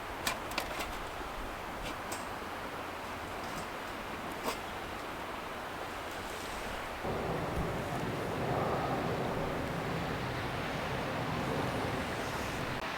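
Wind blows steadily outdoors, a continuous broadband rush close to the microphone that grows slightly stronger partway through, with no talk.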